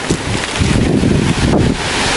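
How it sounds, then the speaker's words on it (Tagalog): Strong typhoon wind from Typhoon Goring roars across the microphone in Roxas, Isabela, a loud, continuous buffeting gust with surging rushes and no talk. "Sobrang hangin po dito sa Isabela."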